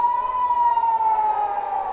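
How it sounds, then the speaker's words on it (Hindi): A steady wailing air raid siren drones at one pitch, sustained and fairly loud with no talking over it. "That's the sound of the sirens"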